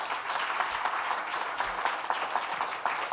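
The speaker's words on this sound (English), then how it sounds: "Can we give them a round of applause?" An audience at the RCGP Awards 2025 ceremony applauds, a dense and even wash of many hands clapping that goes on throughout, with no voices over it.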